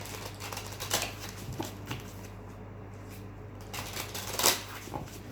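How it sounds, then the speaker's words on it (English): Tarot cards being shuffled in a few crisp riffling bursts, close by, with soft rustling and a low steady hum in the background. "Okay, 2 more shuffles."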